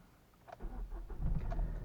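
A diesel engine of a Hyundai i20 1.1 CRDi car cranks and catches, settling into a low, rumbling idle that grows louder after a second; close by, no voices.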